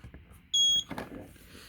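Remote key tester for a Ford Transit Custom key fob giving one short, clear high-pitched beep as the button is pressed, close by, followed by faint handling noise.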